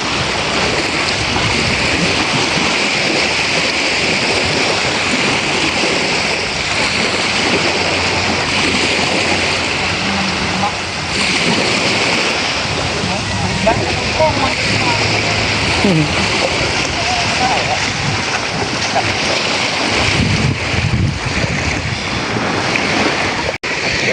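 Sea waves wash steadily against the shore of an island during a picnic, a continuous rushing surf with wind noise on the microphone and people talking over it.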